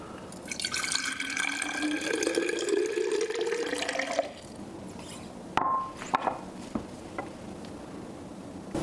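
Water runs from a tap into a cast metal vase, a steady close splashing whose pitch climbs as the vessel fills for about four seconds, then stops, followed by a few light clinks and drips.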